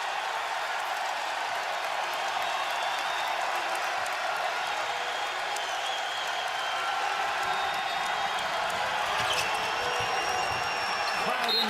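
Basketball arena crowd at a college game between Kansas State and Tulsa, a steady roar of cheering and noise filling the space for the whole stretch, with a commentator talking over it.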